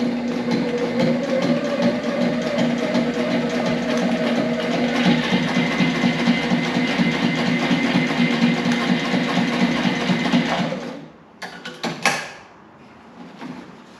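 Straight-stitch sewing machine running steadily, a close continuous mechanical whir with a rapid needle rhythm that stops near the end, followed by a few clicks.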